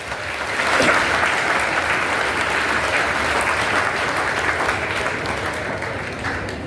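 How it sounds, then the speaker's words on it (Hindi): A large audience claps loudly and steadily for a guru at a book launch event, a dense wash of applause that swells early and holds for several seconds without talk. "तो पहले गुरुजी के लिए जोरदार ताली।"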